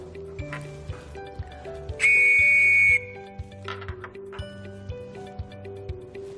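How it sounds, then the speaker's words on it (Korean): A scout signal whistle gives one long, steady blast lasting about a second, loud and close, over soft background music with ticking percussion and no talk. "한번 호루라기로 불어보겠습니다."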